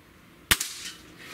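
A single sharp report from a .30 caliber air rifle fired at a 20-yard target, a loud crack with a quick echo and faint ringing tail, alone against quiet room tone.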